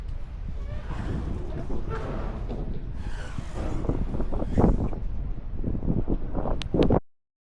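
Wind buffets the microphone at a ferry pier in the port of Moji, giving a rough, gusty rush that swells and fades. Faint voices sit underneath.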